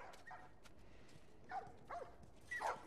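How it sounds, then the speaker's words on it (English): Dogs bark in The Last of Us, a few short, faint yaps spaced apart against a quiet background with no talk. "Oh, we got dogs."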